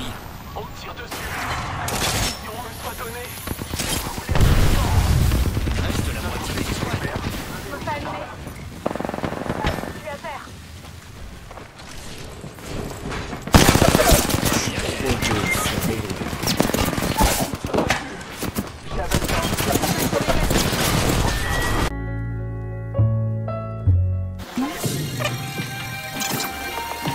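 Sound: gunfire in the video game Apex Legends

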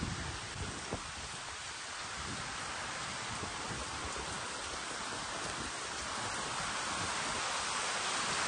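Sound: heavy rain

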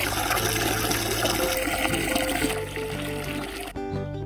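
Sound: running water

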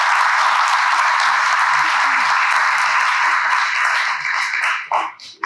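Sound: audience applause for panelists

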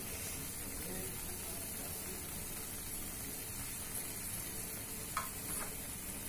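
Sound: stirring and roasting kandi pedha milk mixture in a pan

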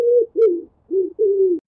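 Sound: pigeon cooing

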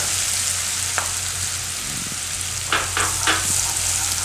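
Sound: garlic and chillies frying in a pan

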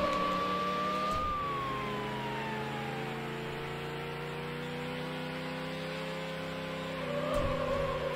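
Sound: police sirens in Need for Speed: Hot Pursuit 2 video game

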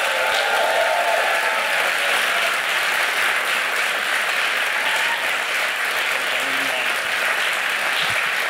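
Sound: applause for Alessandro Cattelan

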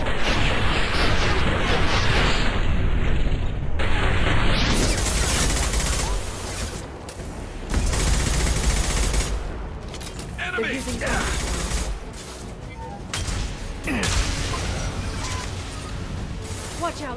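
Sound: flashbang grenades exploding in video game Mass Effect 2

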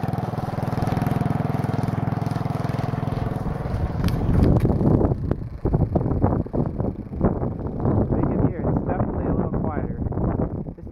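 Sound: go kart engine with a performance muffler

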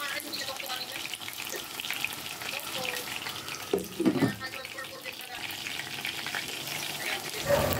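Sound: hotdog and ground meat cooking in a covered pan

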